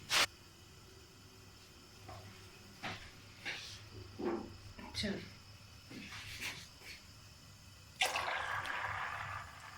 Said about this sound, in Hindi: मैं बॉईल वाला पानी डाल देती हूँ।